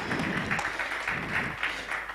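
An audience at a training session claps together, a thick, close wash of applause that swells and pulses in a few waves over two seconds.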